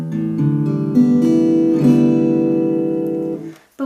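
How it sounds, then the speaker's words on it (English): Guitar strings in standard tuning without a capo ring out in a few strummed chords, close and full, sustaining for several seconds before being muted. "So without it, in standard tuning,"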